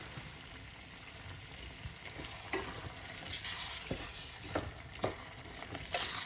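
Eggplant curry made with vegetable stock sizzles steadily in a pot as it is stirred, with several soft scraping clicks from the spoon standing out over the continuous frying hiss.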